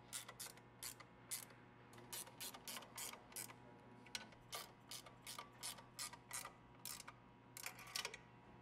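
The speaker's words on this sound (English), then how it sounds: "Tighten the nuts on the mounting bolts." Quiet ratcheting clicks from tightening nuts on the mounting bolts of a SawStop contractor saw, coming in short rhythmic bursts of rapid pawl ticks with brief pauses between them, close and alone.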